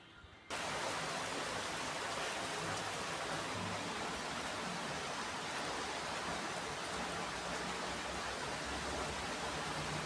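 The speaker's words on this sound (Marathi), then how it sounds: "बाहेर पाऊस पडत होता" Steady rain pours down with a dense, even hiss that starts abruptly and continues unbroken, no voices present.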